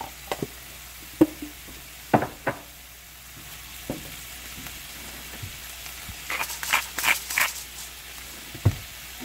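Onions fry in a pan for a chicken and vegetable stir fry, giving a soft, even sizzle broken by sharp knocks and scrapes of a utensil. A brief cluster of stirring sounds comes near the end.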